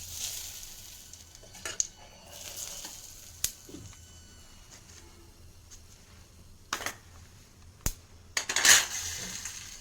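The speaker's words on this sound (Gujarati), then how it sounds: "આ તેલને આપણે આ ઢોકળા માથે રેડવી દઈશું." Hot oil tempered with asafoetida sizzles as it is poured over Gujarati khaman dhokla, with soft crackling and scattered metallic clinks of a pan and spoon, fairly close, and no talk.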